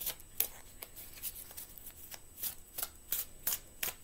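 Tarot cards shuffled by hand in a quiet room, a string of crisp, riffling bursts that repeat at an irregular rhythm, close and fairly soft.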